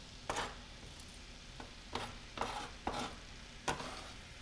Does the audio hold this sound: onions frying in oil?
yes